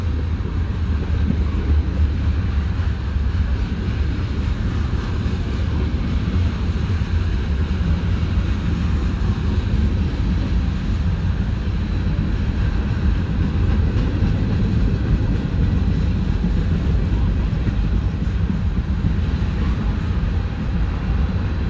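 A fast CSX freight train (manifest Q694, led by locomotive 767) rumbles past continuously, a loud, steady low roar with clattering texture that holds for the whole stretch.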